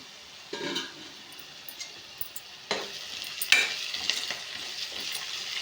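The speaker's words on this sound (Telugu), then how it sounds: "దీంతో నాలుగు స్పూన్లు వేసానండి ఆయిల్ మీకు కావాలంటే ఇంకా వేసుకోండి ఇది బాగా ఎర్రగేగనిద్దాము ఉల్లిపాయలు ఎగనీయమో చూద్దామండి" Sliced onions frying in about four spoons of oil in a pan, a soft steady sizzle with a few louder stirring scrapes and bursts of crackle, close by with no talking.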